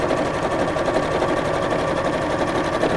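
A sewing machine stitches a messenger style bag, a steady close rapid whirr of the needle running continuously without pause or talk.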